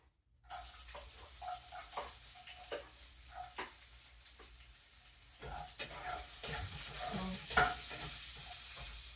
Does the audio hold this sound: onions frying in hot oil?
yes